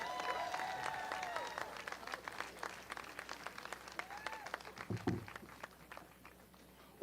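Outdoor crowd applause at a statue unveiling as a mayor is received, steady clapping with whistles and cheers over a distant background, fading gradually toward the end.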